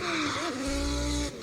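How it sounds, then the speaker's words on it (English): An engine-swapped BMW 1 Series drift car screams at high revs, a piercing, sustained engine note that wavers and climbs with tire squeal mixed in, loud and close. "that sounds like it should be coming out of like almost a Formula One car or something, and it's just this little BMW One Series"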